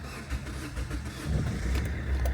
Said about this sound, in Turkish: Evet şimdi aracımızı çalıştıracağız.